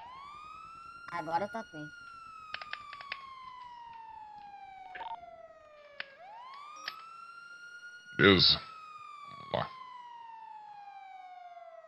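Wailing siren of a police armored vehicle in a video game, slow rising and falling sweeps that repeat continuously at moderate level, with brief speech and a few clicks and bursts over it.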